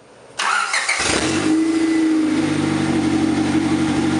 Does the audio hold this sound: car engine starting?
yes